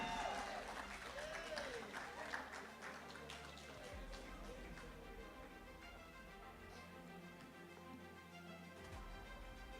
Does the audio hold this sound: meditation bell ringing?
no